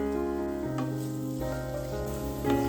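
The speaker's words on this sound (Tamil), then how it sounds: "வெங்காயம் நல்லா ப்ரௌன் ஆகிற வரைக்கும் நல்லா வதக்கி எடுத்துக்கலாம்" Sliced onions fry steadily in oil in a kadai, a continuous close sizzle with faint stirring scrapes and no speech over it.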